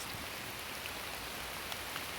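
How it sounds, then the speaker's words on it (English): Steady rain falls through dark woods, a continuous close hiss of drops on leaves and ground with a few louder individual drips and no voices. "Rain's falling on my face."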